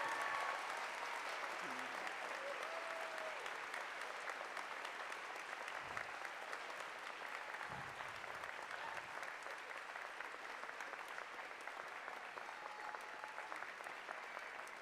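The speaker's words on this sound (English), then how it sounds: "I'd say they deserve a fierce round of applause." A crowd at a high school graduation applauds in a long, sustained wash of clapping that holds steady and fairly distant for about fifteen seconds, with a few faint low thumps in the middle.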